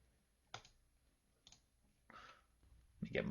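A few quiet, separate clicks from a computer mouse during a Dome Keeper gaming session, spaced about a second apart, with a slightly louder burst at the end.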